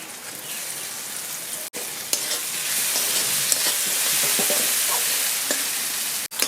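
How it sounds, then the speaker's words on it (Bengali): Chopped ginger, garlic and green chilli fry in hot oil in a pan, giving a steady close sizzle with soft scraping stirs and a couple of brief dropouts. "আমার আদা রসুন লঙ্কা একসঙ্গে ভাজা হয়ে গেছে"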